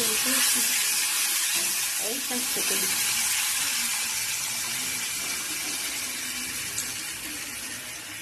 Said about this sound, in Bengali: এই টকে এবার মা ফোড়ন দিচ্ছে, শুকনো লঙ্কা সর্ষে ফোড়ন দিয়ে টকে এবার টকটা ঢেলে দেবে।